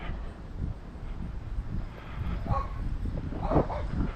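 A small guard dog barks a few times during an outdoor walk on a breezy day, the yips sharp and moderately close, rising toward the end over a soft wind and ambient background.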